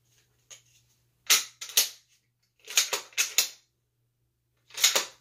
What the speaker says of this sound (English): let me go ahead and make sure the gun's unloaded.